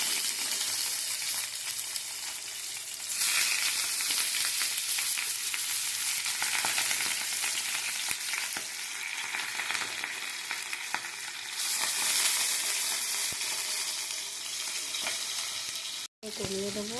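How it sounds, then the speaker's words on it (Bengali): Keski fish fritters fry in hot mustard oil, giving a loud, steady sizzle and crackle that runs for the whole stretch without any talking. "তেল আমার গরম হয়ে গেছে, এক এক করে বড়াগুলো ছেড়ে দেবো।"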